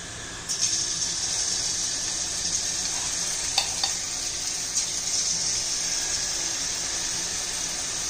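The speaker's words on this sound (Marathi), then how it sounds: "तेल आपलं आता गरम झालेलं आहे। आपल्याला मध्यम गॅसवर तळायचं आहे।" Fasting dahi vada batter fries in hot oil over medium heat, a steady loud sizzle throughout with a few brief clinks of a spoon.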